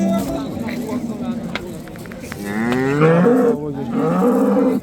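Several cows moo at a livestock market, the calls rising and falling over a steady murmur of crowd talk and traders' voices nearby.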